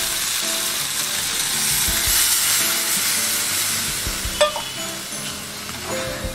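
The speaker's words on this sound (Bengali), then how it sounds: "তো এগুলো দিয়ে দিচ্ছি আমি এখন একটুখানি জল।" Water poured into a pan of potatoes and fried green-banana fritters cooking for a vegetarian curry, giving a steady loud sizzle and hiss with a sharper burst of steam and clinks partway through.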